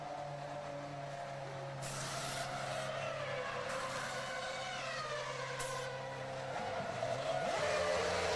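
Formula 1 cars from the 2007 Belgian Grand Prix pull out of the pit lane onto the racetrack, their engines revving loudly and steadily over a continuous wash of circuit noise, with rising engine tones near the end.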